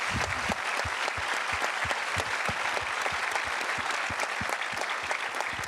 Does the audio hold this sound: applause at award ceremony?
yes